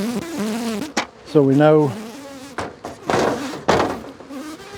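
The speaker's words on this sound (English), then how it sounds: "look at all the bees in the way" Honeybees hum steadily around an open hive in a bee yard, a close and continuous buzz running under bursts of speech and a few sharp knocks from the hive equipment.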